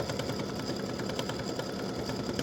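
An embroidery machine stitching a hibiscus in an edge-to-edge butterflies-and-hibiscus design hums and whirs faintly, a continuous low mechanical rattle without pauses or voices.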